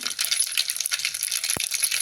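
Mustard seeds go into hot oil in a pot for tempering a traditional fried snack. A fine, crackly spluttering fizz runs close and steady, with one short low thump near the end.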